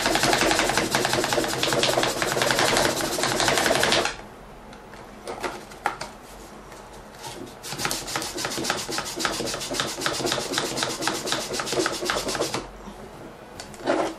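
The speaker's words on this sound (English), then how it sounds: "I'm gonna buff this out a little bit more" Cleaner card rubbing back and forth across N64 cartridge contacts, a steady dense scrubbing rasp, loud and close, that drops out briefly mid-way and then resumes with rapid strokes.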